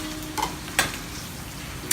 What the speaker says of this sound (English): So after you saute and stir fry the onion and the garlic, just have to add our squid.